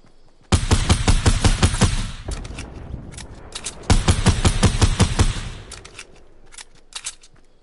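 Gunfire in Fortnite Battle Royale comes as two loud, rapid bursts of closely spaced shots, followed by a few scattered single cracks.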